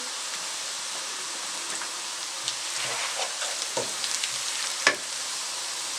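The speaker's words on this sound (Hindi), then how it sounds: "अब देखिए मैंने प्याज को हल्का सा फ्राई किया है" Onion and ginger frying in a pan, making a steady broadband sizzle with a few soft stirring scrapes and one brief clink, fairly close and with no talking.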